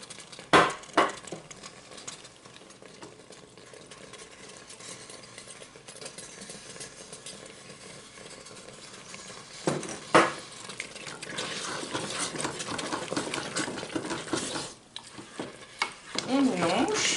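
Mac and cheese, with extra cheese just added, is stirred inside a Cookeo multicooker, a steady gritty scraping with occasional utensil knocks against the pot and a low appliance hum underneath, close and continuous.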